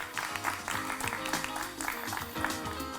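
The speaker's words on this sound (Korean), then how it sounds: "박수로 맞아주시기 바랍니다" Audience applause at a Korean press event for the drama Hospital Ship, welcoming actress Kwon Mina onstage; steady, moderately faint crowd clapping for about three seconds with no talk over it.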